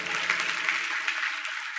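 A church congregation claps together in sustained applause, a dense even wash of many hands at steady loudness with a faint murmur underneath, heard after a sermon moment of praise.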